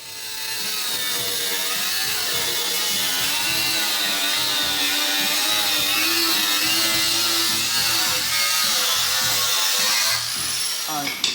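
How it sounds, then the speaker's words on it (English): A loud, sustained high-pitched whine of an angle grinder cutting into the metal body of a Nissan 350Z, running continuously for several seconds before winding down at the end. "But we're gonna cut that with the grinder"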